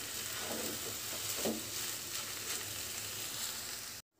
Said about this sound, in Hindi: हम इसे हाई फ्लेम पर 4 से 5 मिनट तक इसे अच्छी तरह से भूनेंगे